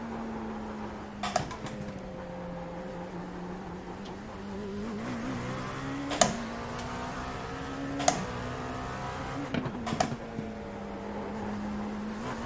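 An LMP2 prototype race car in iRacing on a bumpy street circuit, its engine droning steadily and climbing through revs with shifts, loud and continuous, with a few brief sharp knocks from bumps.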